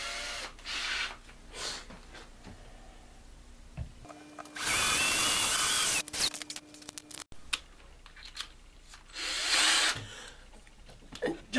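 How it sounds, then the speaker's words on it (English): A power drill whirs into wood in two loud bursts of a few seconds each, separated by quieter handling noises and clatter. "drill a couple holes here and there and then get started"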